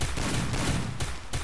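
Rapid gunfire in a shooter video game, a dense burst of shots filling the moment with brief gaps between volleys.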